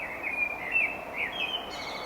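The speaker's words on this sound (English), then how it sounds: "the blackbird, which has a beautiful song" A blackbird sings close and clear, a run of fluting, warbling phrases with brief pauses between them over quiet background.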